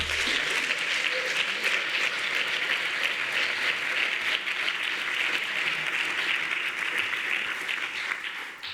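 Sustained audience applause at a university faculty award and opening ceremony, a dense, even clapping that fills the room for about nine seconds and fades slightly at the end, with no speech over it.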